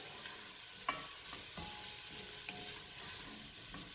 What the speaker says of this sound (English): Now, if you are using canned corn, you don't really have to saute it, but this is fresh corn, so I want to give it a head start.